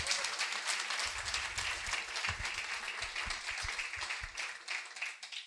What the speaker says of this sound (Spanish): Dele un aplauso a Jesucristo fuerte. Apláudale fuerte a Él.